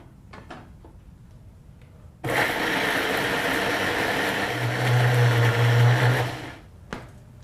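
A mixer grinder runs loud and steady, grinding roasted masala spices, starting abruptly and continuing for about four seconds with a heavier low hum toward the end before cutting off.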